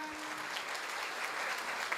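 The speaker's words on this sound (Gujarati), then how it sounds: "તાળીઓ સાથે વધાવીશું." Audience at a religious diksha celebration clapping, a dense continuous patter of many hands at moderate distance, steady and even throughout the brief burst.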